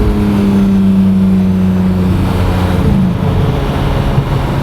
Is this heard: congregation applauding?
no